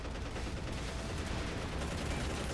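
A grenade launcher fires in the video game MARS on the Submarine Strike map, within a dense, loud, continuous wash of gunfire and explosions that blurs individual shots together.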